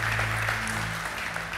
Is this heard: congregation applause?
yes